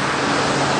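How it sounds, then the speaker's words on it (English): Busy street traffic with cars passing close by, a loud, steady broadband roar and whoosh of vehicles with no pauses. "all these cars suddenly become very busy"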